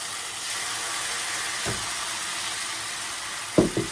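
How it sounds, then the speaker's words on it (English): Jamaican-style pumpkin fritters fry in a pot of hot oil with a continuous bright sizzle and hiss. Two brief bumps and clatters break in as batter goes in or the pot is touched. "we're gonna start frying our fritters"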